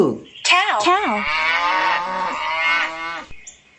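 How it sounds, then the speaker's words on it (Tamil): A cow gives a short low call and then one long, loud, drawn-out moo, close up and alone. "கவ் எப்படி கத்தும் பாப்போமா?"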